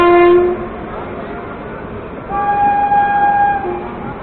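The Pushpak Express overtakes at Ghaziabad Junction with a short horn blast and then a longer one over a continuous rolling rumble of wheels and carriages, loud and close.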